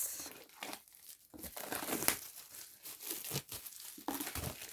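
Plastic wrapping on a limited-version album is crinkled and torn open, with close, continuous rustling and crackling throughout.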